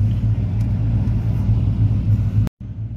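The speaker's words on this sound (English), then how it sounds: "it is a pretty smooth idle now" A 2003 Ford F150 engine idles steadily after a Sea Foam cleaning, a smooth, continuous low rumble close by that cuts out briefly near the end before resuming.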